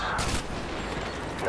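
Dense burst of gunfire from Call of Duty: Modern Warfare 2, loud and continuous throughout, with game voices mixed in.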